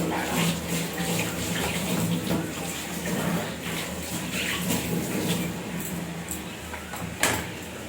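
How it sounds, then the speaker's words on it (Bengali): Fruit that resembles papaya is rinsed under a running kitchen tap, a steady broadband wash of water flowing close by throughout, with a few faint clinks and bumps and no speech. "একটু ভালো করে একটু ধুয়ে নিই।"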